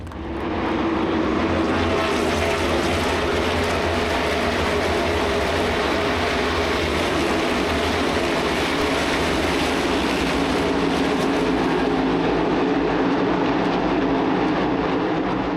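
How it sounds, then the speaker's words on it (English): Massed NASCAR stock car engines roar at Charlotte Motor Speedway during the Coca-Cola 600, a dense, loud, continuous wall of engine noise that holds steady for the whole stretch with no voices. "Drivers, start your engines."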